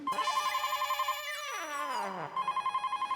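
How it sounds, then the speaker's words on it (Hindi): A telephone bell ringing inside a house, bright repeated electronic trills that pause for a descending warbling tone before the rapid ringing pattern resumes, fairly loud and clear. "सेठ जी अंदर फोन की घंटी बज रही है।"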